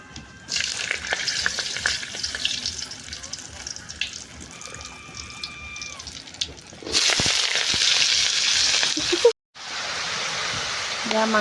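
Meat frying in a kadai, a steady loud sizzle with stirring clatter that swells to a dense hiss, cuts out briefly, then resumes.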